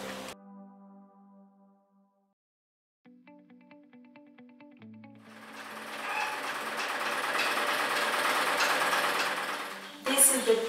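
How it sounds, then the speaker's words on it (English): Sewing machines run in a small sewing room, a steady whirring drone building up after a quiet stretch of tones and lasting several seconds before a brief knock. "This is the project for sewing, which has 6 sewing machines."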